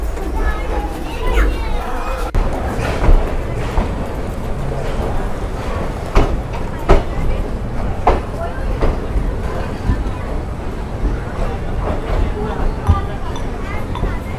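The Jammu Tawi–Jodhpur Express, a sleeper-class Indian Railways train, rumbles along with steady rattling and clacking from inside the carriage, while people talk over the noise.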